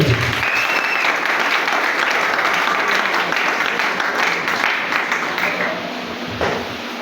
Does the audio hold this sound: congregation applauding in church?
yes